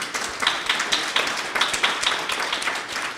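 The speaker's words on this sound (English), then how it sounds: "Everybody give a really big round of applause," Audience clapping after a history café talk, a moderately loud, closely spaced patter with a rhythmic pulse running throughout.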